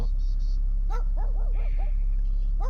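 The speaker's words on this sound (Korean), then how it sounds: "아까 저를 반겨줬던 강아지인데 또기나가지고 짖고 있습니다" A puppy at a countryside campsite lets out a quick series of short, high yelping barks, moderately close, with a steady low hum and some construction noise beneath.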